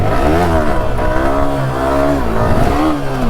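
Motorcycle engine revving hard during a wheelie attempt on a road, loud and close, with rising and falling pitch as the throttle is worked.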